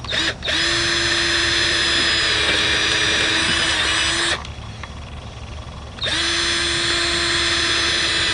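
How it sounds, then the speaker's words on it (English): A power drill whines steadily at high speed drilling hinge holes for a storm door, stops briefly around the middle, then spins up again for a second long run. "drill the rest of these hinge holes."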